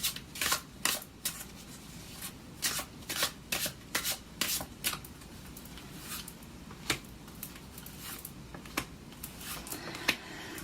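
A deck of Mystic Moon tarot cards is shuffled by hand, giving soft riffling bursts and slaps in an uneven rhythm, close and quiet against a faint room background.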